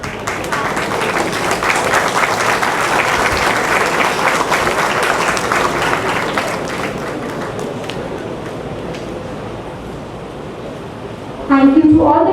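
A college crowd honouring its achievers at an Ambedkar Jayanti event breaks into loud, dense applause that holds steady, then slowly thins and fades toward the end, where a voice begins speaking over the last scattered claps.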